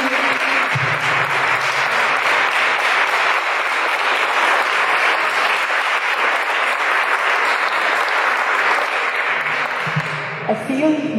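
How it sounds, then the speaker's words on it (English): Sustained audience applause for a panel discussion, dense and fairly loud clapping continuing steadily for about eleven seconds, with a few voices mixed in. "I think a big applause to all on the panel."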